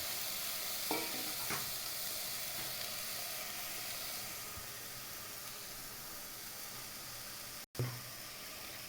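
Chicken frying in a pan for a dhaniya kadai chicken masala, with a steady sizzle and hiss and a few scrapes of stirring, close and alone.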